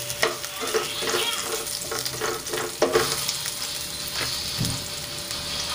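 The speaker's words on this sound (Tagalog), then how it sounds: "Then, lagay natin ang sibuyas." Onions dropped into a hot pan and frying for a ginisang sitaw sa toyo, a loud, dense sizzle with rhythmic stirring scrapes in the first half, then a steady continuous frying hiss, no voices.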